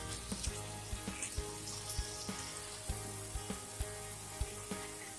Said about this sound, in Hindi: अब हमने कढ़ाई ली है इसलिए हमने ये सारा चिकन डाल दिया। अच्छी तरह गरम करते हैं चिकन को।